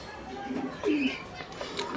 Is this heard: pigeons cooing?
yes